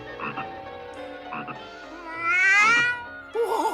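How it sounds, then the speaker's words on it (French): A cartoon toad in a cellar in the 3D Smurfs series gives a loud, warbling croak that rises and swells in the middle. Shorter croaky calls come before it, and a wobbling call follows. "Oh, quelle chance, c'est un crapaud."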